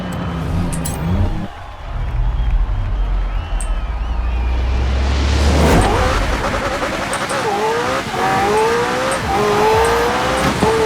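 A Lamborghini supercar in Forza Horizon 4 races loudly, with a low engine drone giving way to rising revs, gear shifts and tire squeal as other Lamborghinis hurtle past.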